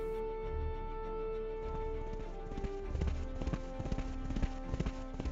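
Horse hooves clip-clop at a steady walking rhythm, fairly close, with a sustained musical tone droning underneath for the first few seconds.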